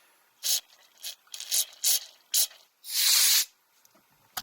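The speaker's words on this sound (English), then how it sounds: "I'm going to blow it out with air." Compressed air blasting through a disassembled 1970 Honda Z50 carburetor in short hissing bursts, five brief sharp puffs followed by one longer sustained blast, close and loud with quiet gaps between.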